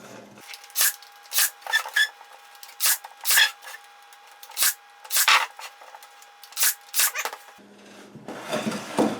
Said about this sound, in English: we'll brad nail this in real quick